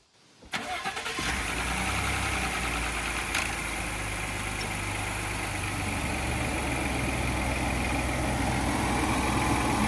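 A Ford F150 fitted with a Flashark cold air intake cranks and starts, then settles into a steady, loud, close engine idle.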